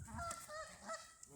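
A goose in a city park gives a couple of nasal honks, close and moderately loud, heard alone with no talking.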